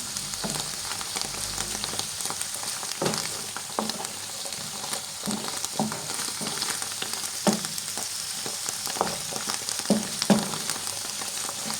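Chicken-of-the-woods mushrooms and egg fry in a pan with a constant close crackling sizzle, broken by occasional sharper pops and stirring clicks, with no voices.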